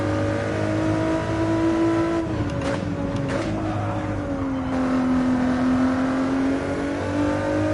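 A race car engine in a racing video game, a steady high whine that drops and climbs through gear changes as the car brakes and accelerates, loud and close with no talk.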